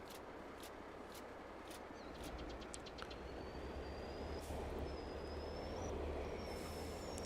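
Train passing in Farming Simulator 22, a low rumbling rail roll that swells over several seconds, with thin squealing wheel tones and a few clicks, heard at moderate distance and no talk.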